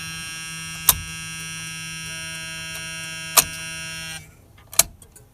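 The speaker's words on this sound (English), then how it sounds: "Hard to beat that old style flasher sound." A 1981 GM car's old-style turn signal flasher buzzer drones in a steady electronic tone for about four seconds, broken by three sharp clicks, then cuts out leaving quiet.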